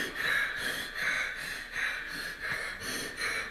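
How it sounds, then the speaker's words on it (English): Heavy, labored human breathing close to the mic, with rhythmic loud breaths repeating about every half second to second, alone without talk. "It's real heavy breath."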